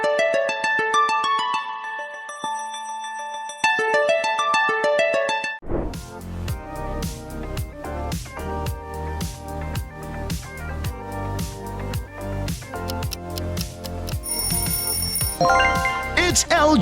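An LG smartphone ringtone plays a bright, chiming electronic melody of quick repeated notes for several seconds, then gives way to a louder, busier stretch of rhythmic music.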